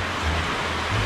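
Rain falling outdoors, a dense, steady hiss heard alone and fairly loud throughout the short stretch, with no voices.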